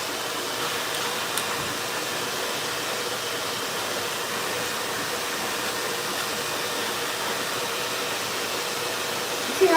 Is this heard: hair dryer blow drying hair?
yes